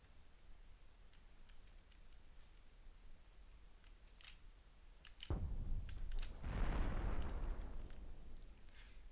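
Cannon shells firing and hitting in a video game tournament match, two booming blasts in quick succession with a rumbling tail, loud against a quiet ticking background.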